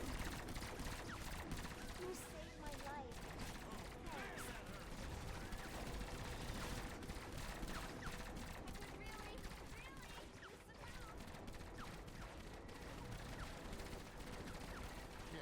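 Allied troops firing guns in Fortnite Save the World, a steady distant crackle of rapid gunfire that runs without pause under a constant background wash, fairly faint throughout.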